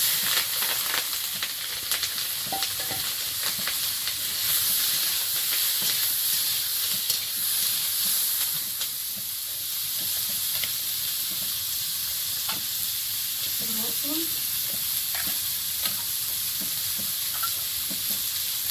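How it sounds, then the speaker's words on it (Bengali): Panch phoron, onion, green chili and tomato frying in oil, a steady close hiss of sizzling with scattered crackles and occasional utensil stirring scrapes, no talk. "তেলের মধ্যে একটুখানি পাঁচ ফোড়ন দেবো পেঁয়াজ লঙ্কা টমেটো"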